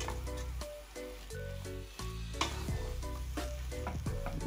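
Garlic paste is stirred into curry chicken back sizzling in a pan, a steady close frying hiss with scraping stirs, under continuous background music.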